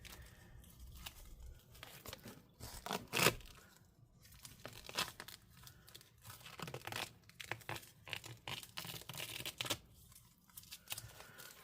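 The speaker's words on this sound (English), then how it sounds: "I'm just going to roll it onto this tape roll." Tape being peeled and wound onto a tape roll during a laptop repair: soft, intermittent tearing and crinkling strips, quiet and close, with uneven bursts and brief pauses.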